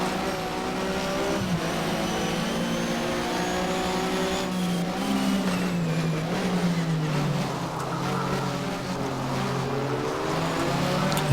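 Porsche Super Cup race cars at Brands Hatch in the Race07 game drone continuously with a loud, close engine note that rises and falls through gear changes, with a faint squeal of tires.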